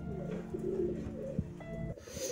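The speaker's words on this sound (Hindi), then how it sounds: "ये देखा पिजन" Pigeons coo nearby in soft, low, rolling calls that run almost continuously, close and clear, with a light flutter or rustle near the end.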